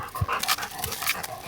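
A dog pants close by in quick, rhythmic breaths, with faint whimpers mixed in over a short stretch, and nobody speaks.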